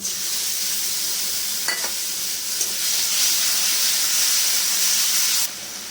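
Tomato paste frying in a pan for a potato, cauliflower and prawn curry, a loud continuous hissing sizzle with a faint stirring scrape, then cutting down suddenly near the end.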